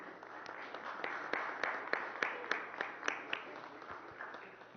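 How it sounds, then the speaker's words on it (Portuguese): Audience applause at a municipal council session, a steady wash of many hands clapping with sharper individual claps popping through, moderately distant and sustained throughout. "Eu solicito uma salva de palmas efusiva."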